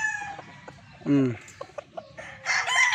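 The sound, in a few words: Allen Roundhead gamefowl rooster crowing and clucking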